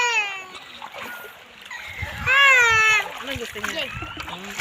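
River water splashing in the San Vicente river in Bicol, Philippines, with a burst of louder splashing midway, under near, animated voices of people talking and a child's high-pitched crying.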